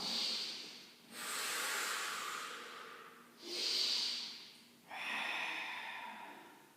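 Deep breaths in and out during a Pilates exercise, close and audible, in long airy waves: two inhales and two exhales alternating with short pauses.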